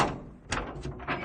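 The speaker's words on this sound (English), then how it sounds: "I opened the door as softly as I could" A door opened softly in the visual novel Chaos;Head Noah, giving a short series of quiet wooden creaks and light knocks, three faint bursts in just over a second.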